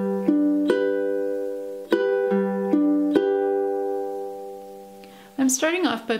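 Ukulele finger-picked slowly in a repeating pattern for a song, clear plucked notes ringing out in groups, with a short burst of speech at the end.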